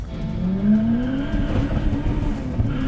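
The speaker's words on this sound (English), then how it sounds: "he's holding those gears a little long. He's boosting, right?" Honda Civic engine revving hard with turbo boost, pitch climbing steadily as gears are held long, loud and close with a rough, droning tone and road noise underneath.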